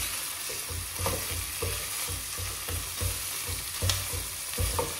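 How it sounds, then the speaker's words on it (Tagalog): Food sautéing in a pan at home, a steady close sizzle broken by repeated scraping stirs about every half second, with no talking. "Tapos igigisa ng mabuti."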